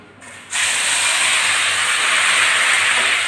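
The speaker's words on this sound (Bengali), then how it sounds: "এই তেলের ভিতরে আমি তেজপাতা ফোড়ন দিয়ে দিলাম। এবার বেটে রাখা মশলাটা দিয়ে দিচ্ছি।" Ground spice paste dropped into hot oil with a bay leaf, bursting into a loud, steady, close sizzle that starts abruptly and holds strong throughout.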